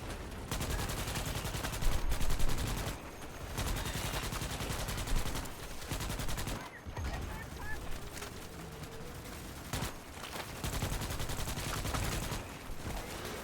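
Sustained rapid gunfire from the Starship Troopers video game, dense bursts of automatic fire with brief pauses, loud and continuous throughout.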